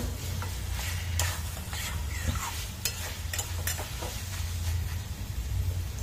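Mutton coated in raw papaya paste is stir-fried in a pan over a raised gas flame, a steady sizzle with repeated scraping and stirring strokes.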